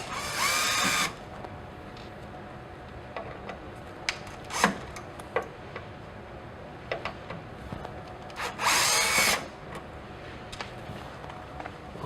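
A T15 Torx driver backs out the screws holding a module in a rectifier. Two short whirring bursts, one at the start and one near the end, are separated by quiet scattered clicks and taps of metal handling. No voices.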